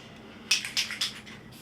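An aerosol can sprays dull coat over graffiti outdoors in short hissing bursts, three quick sprays in a row and the start of a fourth, close and fairly loud over quiet wind.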